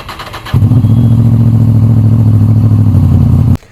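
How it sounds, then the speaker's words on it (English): A motorcycle's 32-valve V4 engine starts and burbles at idle, a deep, loud, throbbing rumble that holds steady for about three seconds before shutting off. "when you turn on the 32 valve V4 engine, it burbles like a muscle car"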